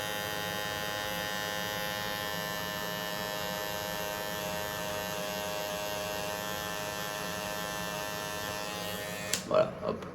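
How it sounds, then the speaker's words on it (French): An electric razor trims along a beard line, a steady close buzzing drone that runs throughout and is cut off near the end by a few handling knocks. "on passera un petit coup de rasoir là où les poils dépassent pour que ce soit propre"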